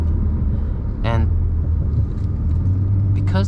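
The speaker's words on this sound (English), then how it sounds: "because this engine is turbocharged" The turbocharged engine of an Alpine A110 rumbles low and steady while driving, heard from inside the car beneath continuous talk.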